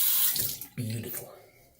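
A bathroom tap runs water briefly for rinsing during a straight-razor shave, a close, hissing splash lasting under two seconds.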